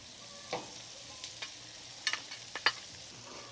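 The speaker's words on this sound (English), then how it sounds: "lay down some beef tallow of the Wagyu type. Get that spread out and melted, and then in goes our Fresno peppers." Fresno peppers sizzle on a griddle in melted Wagyu beef tallow, a faint steady sizzle with a few sharp pops and spatula scrapes over about three seconds.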